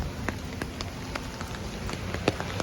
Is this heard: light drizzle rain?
yes